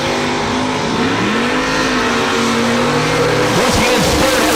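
A 1964 big-tire Chevelle and a Mustang roar down a drag strip, loud engines holding a steady, heavy drone with rising pitch, tire noise and an announcer's voice over the racing.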